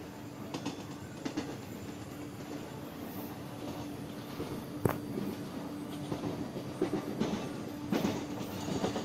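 Rolling clickety-clack of wheels over rail joints in Indian Railway Train Simulator, a train running through Mumbai in the evening, with a steady rumble and rhythmic clunks that pick up as it accelerates, one sharp knock midway.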